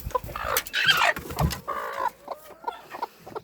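A broody hen clucks in short, insistent bursts close by, with a few higher squawks mixed into the rhythm and brief pauses between.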